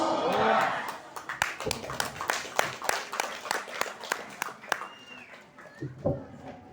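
Audience clapping at a community association gathering, a scattered run of distinct claps that thins out over several seconds, with voices and murmuring mixed in.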